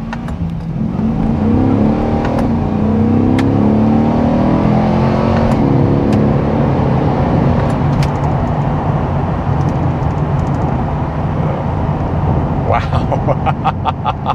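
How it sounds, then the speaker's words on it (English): 2023 Corvette Stingray engine heard from inside the cabin, revving and rev-matching through downshifts as a loud, continuous roar that rises and falls, with people talking over it. "The downshifting, rev matching, very seamless."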